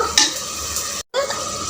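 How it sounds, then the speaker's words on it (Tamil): Water is added to soaked rice in a hot pot for sweetcorn biryani, giving a short sizzling, stirring rush that cuts out briefly and then resumes close up. "அதுக்கு ரெண்டு டம்ளர் தண்ணி நம்ம இது கூட ஆட் பண்ணிக்கலாம்"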